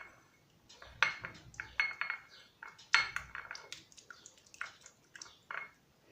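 Sauce ingredients, including soy sauce and milk, are stirred in a bowl, with a spoon clinking and scraping against the sides in quick, irregular strokes, close up and fairly quiet.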